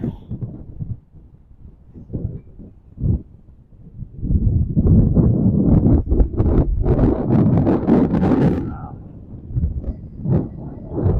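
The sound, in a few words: strong wind from a passing hurricane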